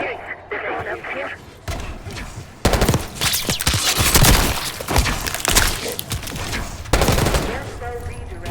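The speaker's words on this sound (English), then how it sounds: "We're hearing gunfire. Yeah, sounds like they're coming from one of the lower floors." Bursts of heavy gunfire and rapid automatic shots crackle in waves with shattering impacts in Call of Duty: Black Ops 6, loud and chaotic, with voices occasionally underneath.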